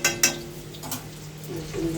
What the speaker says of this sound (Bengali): কড়াইতে রসুন দেওয়া হয়েছে